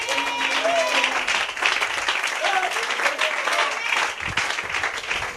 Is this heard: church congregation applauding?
yes